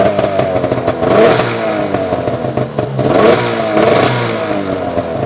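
An old Arctic Cat Firecat F6 snowmobile engine revs in two loud, rising surges with clattering mechanical noise as a faulty clutch that will not disengage starts to engage.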